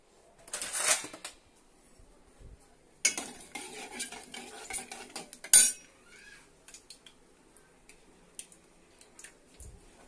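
A spoon stirs a tempering in a metal pan, giving bursts of scraping and clinking against the pan with a light sizzle underneath, separated by quiet pauses.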